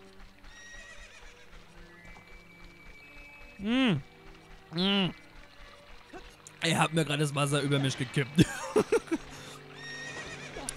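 Epona, the horse in Zelda: Ocarina of Time, lets out two loud whinnies, then clip-clopping hooves and splashing follow, all under an ongoing game soundtrack with someone talking over it.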